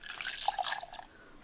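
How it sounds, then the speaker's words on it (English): Saved bean water being poured into a baked bean mix seasoned with ginger, salt and mustard powder, a soft trickling and dripping of liquid lasting about a second before fading, fairly quiet and with no talk. "I've saved some bean water, and I'm going to add"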